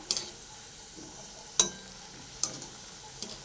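Bakarwadi deep-frying in hot oil over a high flame, a faint steady bubbling hiss under a few sharp clicks and scrapes of a slotted spoon, close and quiet with no voices.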